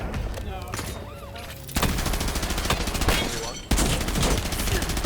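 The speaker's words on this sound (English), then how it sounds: "Taking effective fire." Rapid bursts of automatic gunfire in the Call of Duty Warzone battle royale game, loud and dense, with short gaps between volleys. A voice speaks briefly over the shooting.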